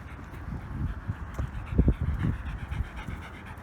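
A Doberman pants in quick, rhythmic breaths close by while playing off leash outdoors, with a few louder huffs near the middle and no talking.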